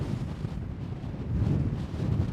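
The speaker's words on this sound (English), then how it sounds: "I've got a bit of a wind gust at the moment, so it's a bit tricky" Wind gusts buffet an outdoor microphone in a canyon during stormy weather, a low rumbling roar that swells and eases in waves with no voices.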